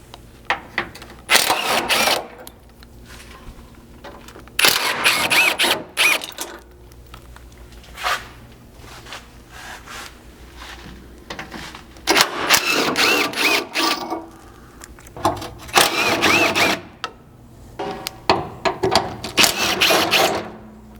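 A powered socket tool whirs in short, repeated bursts, close and fairly loud with brief pauses between, while removing the fasteners of a Toyota Land Cruiser 200 Series gas tank skid plate.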